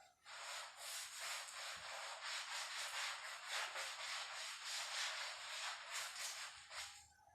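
Chalk being rubbed off a board in a calculus lesson, a steady, close scrubbing hiss with rhythmic back-and-forth strokes that lasts about seven seconds without pause.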